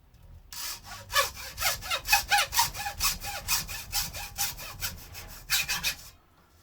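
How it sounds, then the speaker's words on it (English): A hacksaw cuts through metal at an angle in steady back-and-forth strokes, each stroke a bright rasping rub, close up with a regular rhythm and no talk. "I'll just angle the hacksaw that way and just cut extra couple of mil off that off this back side"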